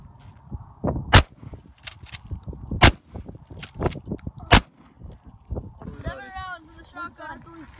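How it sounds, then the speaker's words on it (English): A shotgun fires outdoors in about five sharp, loud cracks spaced unevenly over several seconds, with wind noise and people talking between and after the shots. "shotgun."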